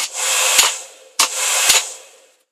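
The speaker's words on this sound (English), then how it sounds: "that's the hairdryer running there" A hair dryer blows with a steady whooshing roar in two bursts, each switched on and off with a sharp click, powered through a prototype ballast control and safety unit.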